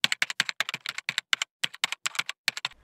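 Fingers type on a computer keyboard in quick, crisp bursts of key clicks, close and clear, with brief pauses between runs of keystrokes and no voices.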